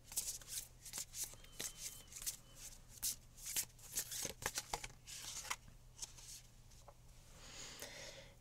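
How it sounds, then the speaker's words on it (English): A deck of oracle cards is shuffled by hand close up, with a quick run of crisp riffling and slapping card sounds in uneven bursts and short pauses between. "So we'll just shuffle up the cards here and see what we get."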